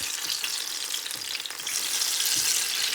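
Turon frying in melting sugar in a pan, a steady bright sizzle and crackle that swells slightly louder toward the end, close and alone.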